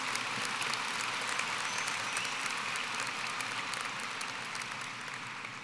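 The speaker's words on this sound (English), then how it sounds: "So give a big round of applause" Sustained audience applause for graduates at the Coronado High School 2022 graduation ceremony, a dense, steady wash of many hands clapping that holds evenly throughout with no speech over it.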